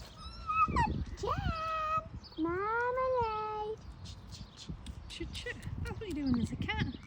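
A person imitates a cat's meow several times in a high, wavering voice, with short spoken words between the calls and a louder exclamation near the end, at an allotment.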